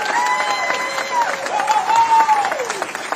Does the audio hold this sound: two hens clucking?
no